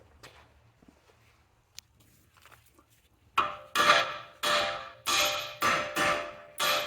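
Hammer blows striking the side of an outer tie rod end on a 2011-2017 BMW X3 F25 to break up corrosion, about six loud, evenly spaced metallic knocks close by after a quiet stretch.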